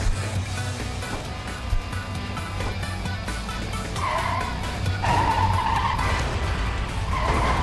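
Truck tires skid and screech under braking in the chaotic truck-jumping game Clustertruck, a loud sustained squeal over rumbling engine noise, rising again in later bursts with no talk.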